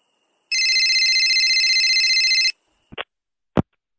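A telephone rings in a two-second electronic trill, then stops; two sharp clicks follow, like a handset being picked up, in a quiet recorded English listening exercise.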